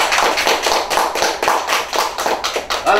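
Audience applause at a 2017 CSEC graduation awards ceremony, a dense continuous crowd clapping that stays steady and fairly loud throughout, with no clear talk over it.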